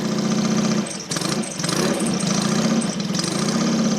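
A Norton P11 Ranger motorcycle engine idles steadily at close range after a kick start, a lumpy low throb with a brief dip in the middle before settling back into its rhythm.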